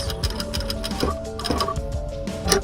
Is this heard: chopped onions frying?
no